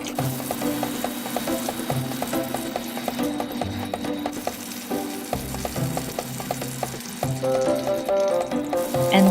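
Walnuts and grated ginger fry in a pan in an RV kitchen, a steady crackling sizzle running for several seconds beneath rhythmic background music.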